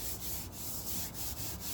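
Steady hand sanding on a resin-topped guitar body, a close, continuous rough scratching with soft rhythmic strokes, alone and fairly quiet.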